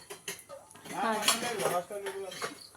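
Metal milk pots and vessels clatter and clink as they are washed by hand at a family home during Durga Puja, the scrubbing and knocking running beneath people talking nearby.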